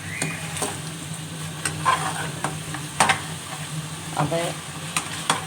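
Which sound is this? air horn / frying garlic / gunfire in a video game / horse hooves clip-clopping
frying garlic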